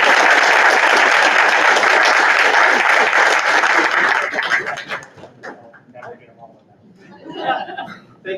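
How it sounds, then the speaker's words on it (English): Loud audience applause at a school district board of education meeting fills the first half, then thins out into scattered claps, chatter and light laughter as voices take over. "Let's give everybody a round of applause"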